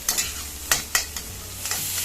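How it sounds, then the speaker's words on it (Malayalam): Shallots and green chilies being sautéed in a pan: several sharp scrapes and taps of a spoon stirring against the metal over a soft, low sizzle. "നന്നായിട്ട് വറുത്തെടുക്കണോ? ഒന്ന് വഴറ്റിയെടുത്താൽ മതി."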